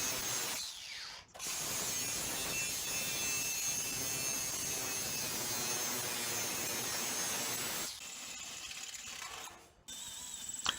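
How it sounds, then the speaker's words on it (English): A drill bores out resistance spot welds along the leading edge of a rusty car door skin, a steady grinding whir that runs for about seven seconds, pauses briefly, then starts again. "Drilling out the resistance welds, the leading edge of the door."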